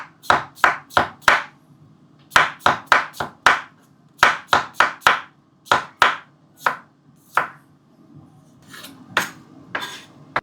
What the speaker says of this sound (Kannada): ಸೊ ಇದು ಉದ್ದುದ ಸ್ಟ್ರೈಪ್ಸ್ ಕಟ್ ಮಾಡ್ತಿದ್ದೀನಿ ಅಷ್ಟೇ